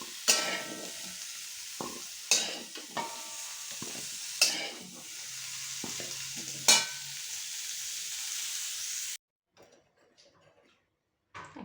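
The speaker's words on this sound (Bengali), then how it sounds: "এখন এই সবজিগুলো সবগুলোই দেখুন ভালো করে ভাজা হয়ে গেছে।" Vegetables for Bengali shukto frying in oil in a pan, a steady close sizzle broken by several sharp stirring scrapes, then the sizzle cuts off into near quiet with a few faint knocks.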